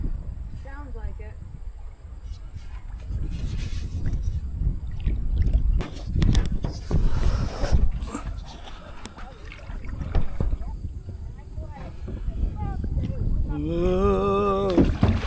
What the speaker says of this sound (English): Is there more rapids up there? Sounds like it.